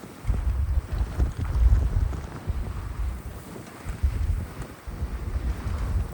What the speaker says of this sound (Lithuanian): Vėjas toks stiprus čionais ant Abisko kalno viršaus